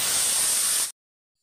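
Two teaspoons of vinegar poured into a boiling sauce for egg chowmein give a loud, steady, close hiss that cuts off abruptly, followed by silence.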